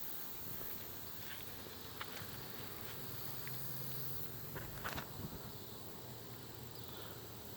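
Bees buzzing around a yard of stacked wooden hive boxes: a faint, steady, distant hum with a few soft ticks and taps, and no voices.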